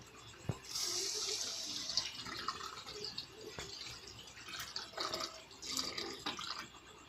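Water is poured into a pan of chicken curry during cooking, giving a faint splashing and sizzling gush with a few drips and clinks, with no talking.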